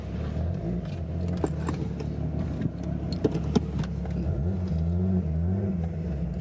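Volkswagen Golf MK3 VR6 idling nearby, a steady low engine rumble with a few sharp exhaust pops and crackles scattered across it, no talking.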